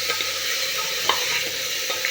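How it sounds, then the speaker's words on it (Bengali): Chicken for a stew fries in a pan while being stirred, a steady close sizzle broken by a few sharp scrapes and clinks of the spoon, with no talking. "আমার চিকেনটা যখন ভাজা হয়ে যাবে"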